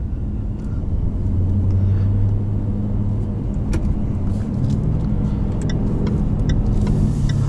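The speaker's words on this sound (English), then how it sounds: "I do have the loud exhaust on because why not?" A 2021 Jaguar F-Type R with its loud exhaust mode on drones steadily from inside the cabin, a deep constant engine and exhaust rumble with shifts in pitch as it pulls.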